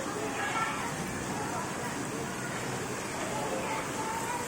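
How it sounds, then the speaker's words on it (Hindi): Heavy rain pours as a dense, steady hiss, close and constant throughout, with faint voices in the background. "ये कितनी तेज बारिश है देख।"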